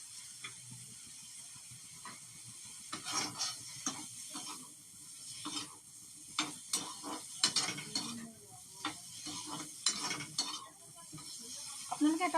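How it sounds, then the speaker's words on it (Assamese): Paneer frying in butter in a pan, a soft sizzle under repeated scraping and stirring clatter, close and irregular, rising in busier bursts toward the end. "বাটাৰখিনিত মই এই পনীৰখিনি এতিয়া ধুনীয়াকৈ অকণমান জাষ্ট ৰঙচুৱাকৈ ফ্ৰাই কৰিম"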